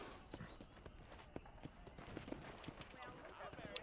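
Steady clip-clop of horse hooves at a walking pace in the video game Red Dead Redemption, fairly close, over a low background hum and scattered ambient noise.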